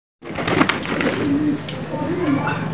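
Freshly bathed pigeons coo in low, rolling throaty calls that start abruptly after a brief silence and carry on steadily, close and moderately loud.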